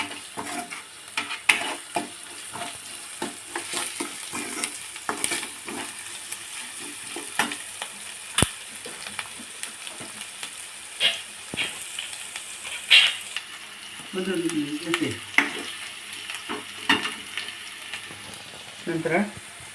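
Onions with ginger garlic paste and salt frying in a pan, a steady sizzle broken by repeated stirring scrapes and clinks of a spoon against the pan, close and moderate in level.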